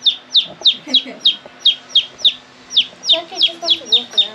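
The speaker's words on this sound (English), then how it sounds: "Come in here, chicken." A small chicken in rural Venezuela gives a steady run of loud, close, sharp clucks, about three every second with short pauses between, alone without talk.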